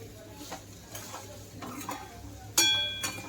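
A salted mixture is stirred in a pan over a low gas flame. Soft, scraping stirring strokes repeat at a near distance, with a brighter utensil clink toward the end.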